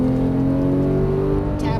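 A Porsche 991 GT3 on a racing track runs at full throttle with a steady, loud engine drone and whir that holds through the short burst, heard from inside the car.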